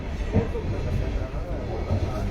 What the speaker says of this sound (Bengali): আর ওই যে একটা ট্রেন যাচ্ছে দেখুন